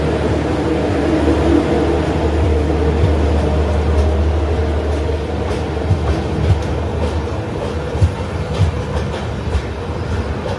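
Kolkata-Gorakhpur Purbanchal Express running, heard from inside a general coach: a steady loud low rumble of the carriage with rhythmic wheel clatter and occasional clunks throughout.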